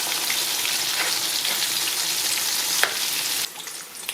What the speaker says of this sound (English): just pop the fish cakes in and cook them for 3 or 4 minutes on each side